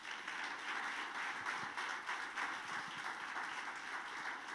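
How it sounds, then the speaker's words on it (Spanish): A church congregation applauding in a dense, continuous wash of clapping that holds steady throughout, moderately distant and without speech. "Dale un aplauso al Señor."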